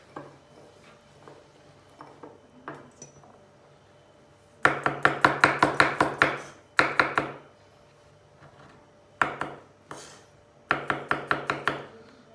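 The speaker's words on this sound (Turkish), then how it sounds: "İçine 3 diş de sarımsak doğradım." Garlic cloves are chopped with a knife on a board, quick bursts of rapid rhythmic taps separated by short pauses, close and crisp.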